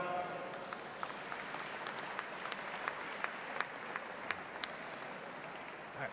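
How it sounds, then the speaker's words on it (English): Audience applause at a college commencement ceremony, a sustained wash of many hands clapping at moderate distance in a large hall, steady throughout with scattered sharper claps standing out. "Can we give him a round of applause as well?"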